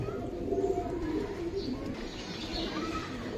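Indian khaki and high flyer pigeons coo continuously nearby in low, rolling bursts, with a few faint chirps over a busy, slightly noisy background.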